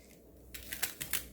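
A knife cutting eolgari cabbage greens on a board for kimchi, several quiet crisp chops in a quick run after a short pause, heard close up with no talking.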